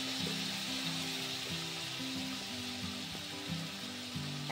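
Spice masala with cumin powder sizzling steadily in a pan as it is fried, a continuous close hiss with faint stirring clicks and low background music underneath.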